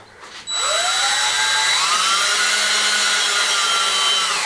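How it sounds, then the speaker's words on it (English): A power drill fitted with a big wood bit bores through timber, starting abruptly and holding a loud, steady whine that shifts in pitch as the bit bites; close and continuous, no speech. "I'm going to go through the timber with a big wood bit, and then see if we can get outside"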